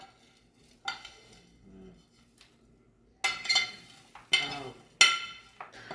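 Drained seeds are poured into a blender jar in a few separate bursts, each a bright clatter and rattle of small seeds against the container, near and loud, with quiet pauses between.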